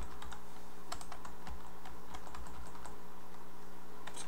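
Computer keyboard keys clatter in quick, irregular taps during a game of Blood Champions, close and fairly steady throughout, with no voices.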